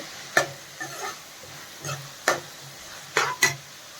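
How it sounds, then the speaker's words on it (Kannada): Leftover chapati noodles with vegetables being stirred in a pan: a series of sharp scraping strokes of a spatula, about six spaced irregularly, over a faint steady sizzle, close and without talk. "ಇನ್ನೊಂದು ಎರಡು ನಿಮಿಷ ಫ್ರೈ ಆದರೆ ಸಾಕು"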